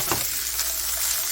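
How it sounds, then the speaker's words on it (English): Leftover chicken sizzles in hot bacon grease in a pan, a steady close frying hiss with a brief stir near the start and no talking. "We're going to sizzle this down a little bit."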